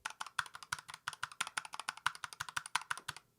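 Rapid, loud clacky keystrokes from an old computer keyboard, a steady stream of sharp clicks close to the microphone, with no voices.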